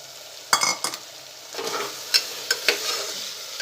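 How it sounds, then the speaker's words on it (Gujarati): Peas and potatoes sautéing in oil in a pan, with a soft background sizzle broken by several sharp scraping and clinking stirs of a spoon, close up and without talk. "તમે આ રીતે થોડીવાર તેલમાં બટાકા અને વટાણા એ બધું સાતળશો"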